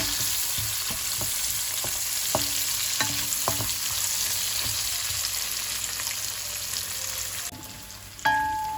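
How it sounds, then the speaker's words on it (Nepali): Chopped onion sizzles steadily in hot oil in a pan while being stirred, with intermittent close scraping and clicking from the spoon, for a Nepali tama aloo bodi curry; no voices. "अब यो यतिको प्याज भुट्यो।"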